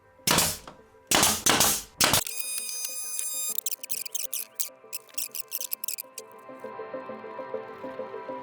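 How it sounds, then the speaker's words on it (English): A nail gun driving nails into wall studs for a soundproof wall: three loud, sharp, close bangs about a second apart, followed by a quieter, busier stretch of clicks and tones. "So I'm gonna bring the nail gun in here and I'm just gonna pop, pop, pop, like this."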